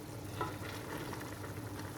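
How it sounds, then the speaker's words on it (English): Egusi soup simmers in a pot after about ten minutes of boiling down with stock, giving a soft, continuous bubbling sizzle close by with faint pops and no voices. "This has been boiling for up to 10 minutes now."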